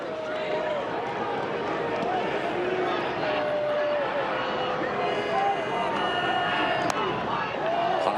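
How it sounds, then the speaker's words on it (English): Baseball crowd at a Twins–White Sox game booing in protest, a broad sustained roar of disapproval from the stands with whistles cutting through, continuous and loud throughout. "A full-scale verbal revolt from the crowd."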